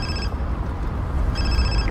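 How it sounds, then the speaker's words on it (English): A phone ringtone chirps in two short bursts over a steady low rumble of a car interior. "Your car's ringing."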